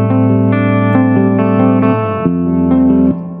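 Electric guitar plays sustained chords through the PreSonus Studio One Ampire amp simulation on its vibrato channel, loud and clean with pulsing wobble and ringing decay, no voices.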